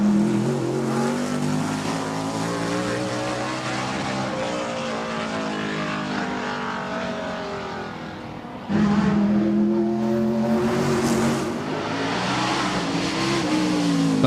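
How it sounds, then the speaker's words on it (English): A NASCAR Chevrolet SS races up the Goodwood hill climb, its engine roaring loud and sustained, dipping briefly and then surging hard again as it accelerates past the crowd. "Next up is another of our NASCARs. This is Ed Berrier in the Chevrolet SS."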